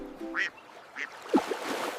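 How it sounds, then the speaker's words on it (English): Cartoonish duck quacks in a children's counting nursery rhyme, a few short bright bursts in quick succession, close and moderately loud with no talking. "4 ducks on a log go quack-ack, quack-ack, quack."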